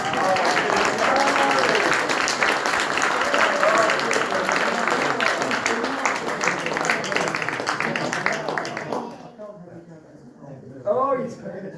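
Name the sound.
audience applause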